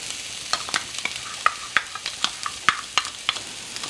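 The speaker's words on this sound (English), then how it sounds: "And so now I'm gonna add my garlic in." Garlic and onion sautéing in a pan for eggplant lasagna, a soft steady sizzle broken by roughly a dozen sharp scrape-and-clink stirring strokes at an uneven rhythm, close and moderately loud with no talking.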